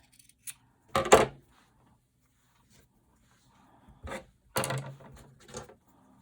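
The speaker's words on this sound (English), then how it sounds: "I'm going to trim that background fabric." Scissors trimming quilt background fabric, a few short, crisp snips in separate bursts with quiet pauses between, close up.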